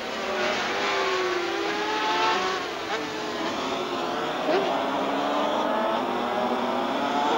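500cc Grand Prix racing motorcycles at Hockenheim in 1985 scream past one after another, their high engine whines rising and falling with Doppler sweeps as they enter the stadium section, with a loud continuous crowd-and-engine backdrop.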